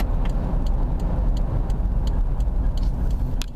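A 1997 Isuzu Rodeo with a four-speed manual transmission driving along, its engine running steadily with road and cabin rumble, continuous and fairly loud, with faint ticking clicks.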